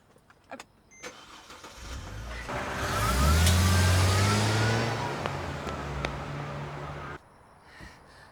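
A car engine starts and revs up loudly nearby, holding a steady drone before pulling away and cutting off, on an empty stretch of countryside road.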